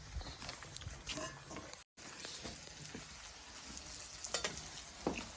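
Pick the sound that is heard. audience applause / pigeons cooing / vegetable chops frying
vegetable chops frying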